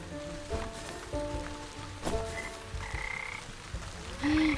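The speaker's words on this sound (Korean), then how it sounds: "개구리 봐." Frog croaking in the Wytchwood adventure game, a few scattered croaks and clicks over a soft rainy ambience, fairly quiet with no talk.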